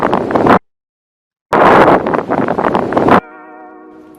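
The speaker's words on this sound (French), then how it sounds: "Légèrement de vent." Loud bursts of wind blast into the microphone, cut by a sudden silence, then a longer gust before a faint tonal hum remains.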